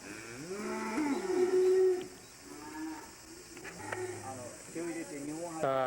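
A black Wagyu cow on a Japanese family cattle farm gives a long, loud, wavering moo close by, then lower calls follow amid farm background noise and people talking.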